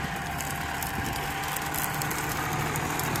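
Steady, loud engine rumble of a heavy vehicle straining uphill, one that burns about 25 litres of fuel, holding a constant drone with no clear rev peaks over the whole stretch.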